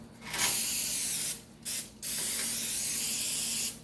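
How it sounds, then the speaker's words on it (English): Bursts of aerosol cooking spray hiss close by onto a cookie tray, one long spray, a short puff, then another long spray. "you have to spray down"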